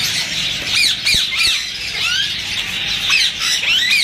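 Yellow ringneck parakeets in a breeder pair squawk repeatedly at close range, with sharp, shrill calls coming in quick overlapping bursts.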